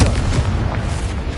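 A short, loud, booming blast of the Confringo explosive spell in Hogwarts Legacy, a single heavy burst decaying quickly.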